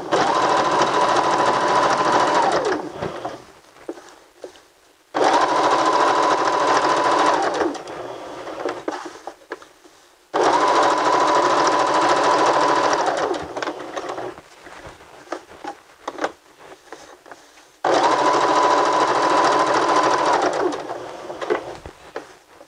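A sewing machine runs a straight stitch in four long, steady bursts, each a few seconds of loud, even whirring, separated by brief pauses.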